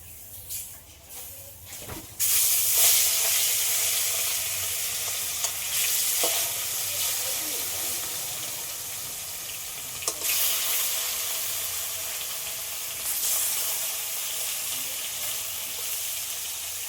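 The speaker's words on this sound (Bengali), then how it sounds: "তেলটা ভালো করে গরম হয়ে গেছে আবার মাছ ভেজে নেবো" Pieces of cut rohu-type fish fry in hot oil tinted with turmeric, a steady close-up sizzle that swells loudly after a quieter opening and holds with a few faint clinks, no voices.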